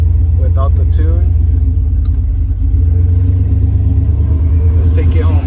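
New pickup truck engine running while driving, a loud steady low rumble from inside the cab, holding constant throughout, with someone talking over it.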